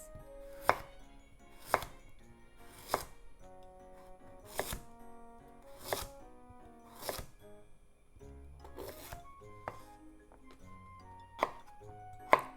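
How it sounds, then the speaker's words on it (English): A knife cuts a Japanese sweet potato into diagonal slices on a cutting board, each slice a crisp, close chop landing at a slow, roughly one-per-second rhythm with quiet gaps between. "Cut both ends off and make diagonal slices."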